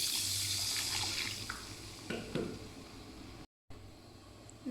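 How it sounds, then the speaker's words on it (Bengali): Water poured into a cooking pan while onions fry for a Bangladeshi shapla stew with poa fish and prawns, a brief hissing splash and sizzle over steady background noise, followed by a short dropout. "এখন আমি সামান্য পানি দিয়ে দেব।"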